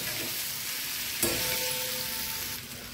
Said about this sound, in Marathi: हे एकदम फ्राय करून घ्यायचे